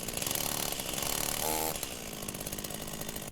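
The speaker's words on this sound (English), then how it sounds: "She heard a chainsaw roar life." A chainsaw roars to life in a thriller audio drama, a loud, dense engine snarl that runs steadily throughout with a brief revving surge in the middle, heard alone without any voices.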